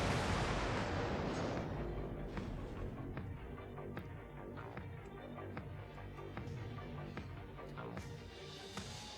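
A big gun in a video game sets off a heavy, booming explosion that opens loud and rumbles away over several seconds, with scattered small crackles and pops trailing through the fade.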